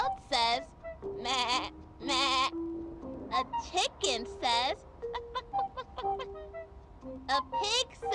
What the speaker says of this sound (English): A goat says, meh, meh.